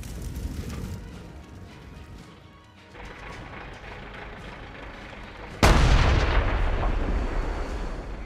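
Heavy tank cannon blast in World of Tanks Clan Wars, one loud booming shot mid-clip over steady battle rumble, with a long rolling decay.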